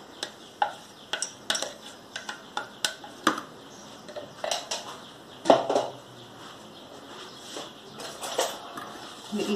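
A spoon scrapes and clinks against a metal strainer holding soaked horse gram dal, making a series of irregular light taps and scratchy stirring sounds, close and clear with no talk.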